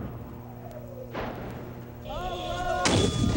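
Heavy artillery shelling of the town of Misrata in Libya, with booming impacts and blasts at distance over a rumbling background, growing louder toward the end.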